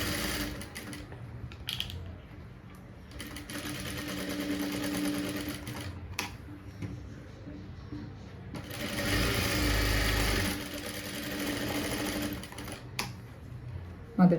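A sewing machine stitches darts on the front piece of a blouse, running in bursts of rapid mechanical whirring with brief pauses between, close and fairly quiet, while a person talks over it.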